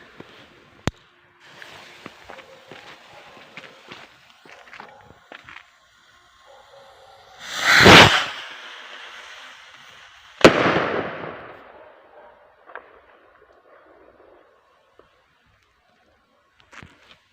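Thunder PXR224 firework rockets launch with a rising whoosh and then burst in a sharp bang, followed by crackling and a fading echo, with a few small pops before and after in open air.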